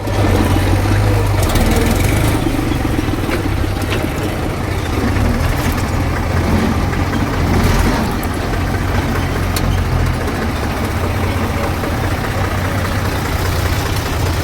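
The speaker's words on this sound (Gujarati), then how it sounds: "ટ્રેક્ટર પણ આવી ગયું છે બીજું." A tractor engine runs steadily at close range with a deep, continuous idling rumble, joined by faint clanks and background activity as a trolley is hitched nearby, with no talk.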